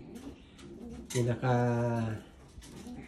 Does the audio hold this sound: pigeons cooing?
yes